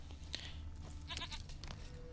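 A goat bleats in The Witcher 3 game, a short faint wavering call over quiet ambient game sound.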